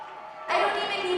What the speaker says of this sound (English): I can hear the crowd buzzing behind us. You can feel the energy in the room. Listen to them cheer.